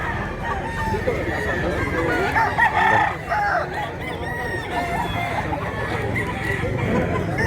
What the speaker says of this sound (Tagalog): Dami pang manok dito